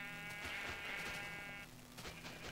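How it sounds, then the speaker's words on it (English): In the video game Minecraft, a sheep gives one long, wavering bleat followed by a shorter second one, clear and moderately close. "Oh, I hear another one. Where there's one sheep, there's plenty."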